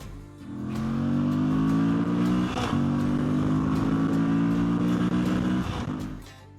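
A 2026 Moto Guzzi 585TT adventure motorcycle engine revs up and holds a loud, steady drone at close range, briefly dipping once before easing off and fading near the end.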